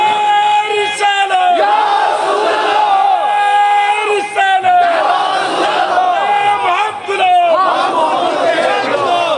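A large gathering at a Shab-e-Barat religious talk loudly chants the slogan Ya Rasool Allah in repeated call-and-response bursts, with drawn-out voiced shouts rising and falling in waves.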